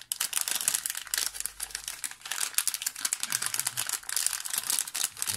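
A parcel from China is cut and torn open with electrician's scissors, a close, quick run of snipping, crinkling and rustling packaging with no talk.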